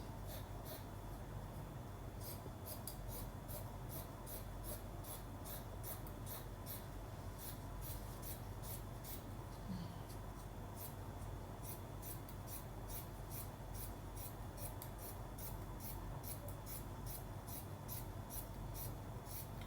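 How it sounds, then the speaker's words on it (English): Repeated crisp snips of sharp scissors cutting through fabric for a pair of trousers, steady and rhythmic, close by over a low background hum. "Please, while cutting, use a sharp scissors"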